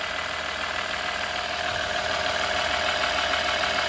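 A 3.0 EcoDiesel engine running on its first start after a rebuild, a continuous loud rattling diesel clatter with steady knocking, close and uninterrupted.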